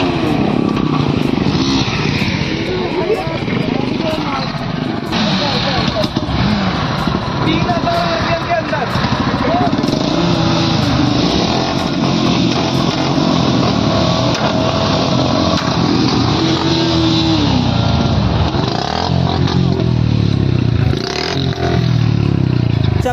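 Several motorcycles rev and idle together during a Republic Day group city ride, loud and steady throughout with engine roar and clatter, while people talk over the noise.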